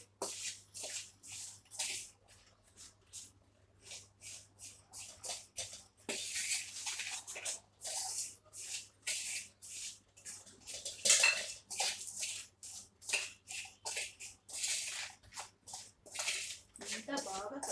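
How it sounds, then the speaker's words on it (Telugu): Mango pickle ingredients, chilli powder and garlic among them, stirred in a bowl: repeated scraping and clinking strokes, close and fairly loud, in an irregular rhythm with brief pauses throughout. "ఇవన్నీ ఇలా మిక్స్ చేసుకోవాలి."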